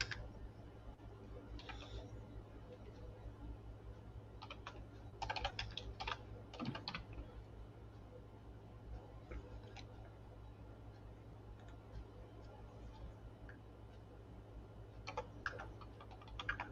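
Typing on a computer keyboard sounds as soft, uneven clusters of key taps, quiet and close, with steady background hum and faint talk.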